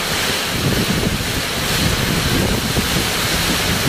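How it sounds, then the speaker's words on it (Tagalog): Strong storm wind roars steadily and loudly across an outdoor spot at a diner in Pandan, Catanduanes, a dense continuous rush with no pauses and no voices. "Naririnig niyo yung hangin."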